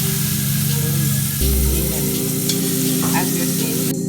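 Butter melts and sizzles in a hot sauce pot, a steady, close frying hiss with a low rumble beneath that swells partway through. No voices.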